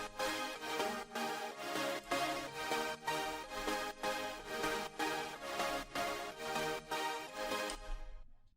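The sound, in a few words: drop chords widened with stereo enhancer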